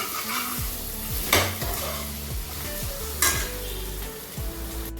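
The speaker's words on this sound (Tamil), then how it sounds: "இஞ்சி பூண்டு போட்ட உடனே கொஞ்சம் அடிச்சு பிடிக்குங்க நல்லா கிளறி விட்டுக்கணும்" Ginger garlic paste frying for chicken biryani, a close, loud sizzle with repeated metallic scrapes and clinks of a ladle stirring against the pot, two sharper bursts standing out, no voices.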